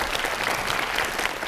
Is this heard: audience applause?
yes